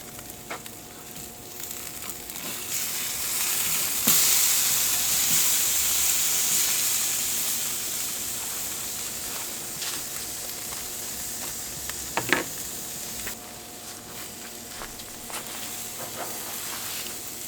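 Thin steak sizzling on a grill beside other food, a steady loud frying hiss with a few sharp pops and crackles, no talking.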